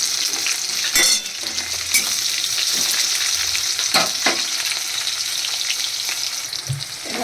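Garlic cloves and a chopped medium onion fry steadily in a little oil, a dense, even sizzle with occasional spoon scrapes and clinks against the pan throughout.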